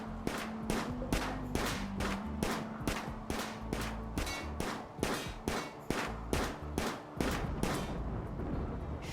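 Rapid gunfire in a video game aimed at an angry Muffalo, a loud, evenly spaced string of sharp shots, about two per second, continuing for several seconds.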